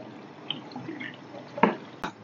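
Water falls from a cleaned DIY aquarium top filter as a faint, soft trickle, with a couple of sharper drips near the end.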